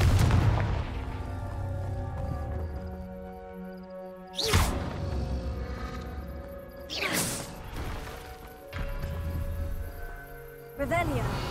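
Confringo fire spell blasts from the PS5 game Hogwarts Legacy, three sharp explosive booms about three seconds apart over a steady bed of game music and ambience.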